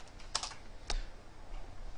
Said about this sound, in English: Some of you may realize from my typing that I'm kind of getting used to Visual Studio.